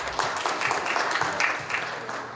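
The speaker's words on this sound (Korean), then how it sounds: "큰 박수 부탁합니다." An audience gives moderate, steady applause at a hospital cooperation agreement ceremony for the 2025 APEC summit. The claps blur into a continuous hiss at middling loudness.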